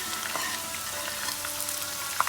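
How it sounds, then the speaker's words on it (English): Finely cut red onion fries in a pan for Pindi chana, a steady even sizzle with faint crackles and one small clink near the end, no voices. "Now I'm going to add finely cut red onion."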